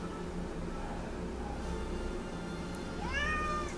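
A cat meows once, a clear rising-then-falling call near the end, after a stretch of quiet room tone.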